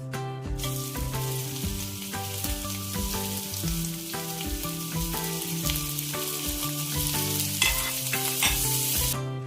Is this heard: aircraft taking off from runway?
no